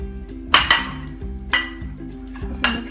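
Chickpea salad with mayonnaise being stirred in a bowl with a metal spoon, giving a few sharp clinks and scrapes against the bowl at irregular intervals, close and clear, with no talking.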